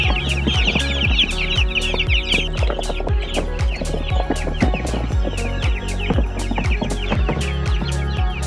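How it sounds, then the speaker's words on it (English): Three-week-old meat chicken chicks cluck and peep continuously in a dense, busy flock, close by and steady, with sharp repeated calls layered over one another and no talking. "It's always a really beautiful day whenever we put 3-week-old chicks out on pasture."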